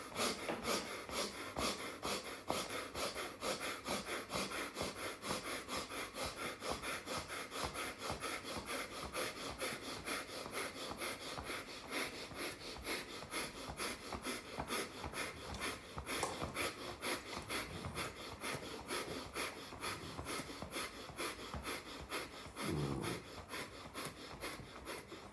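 Soft, steady rubbing of hands against each other during a breathing exercise, a continuous faint rasping texture with rhythmic strokes and quiet breaths, no talking.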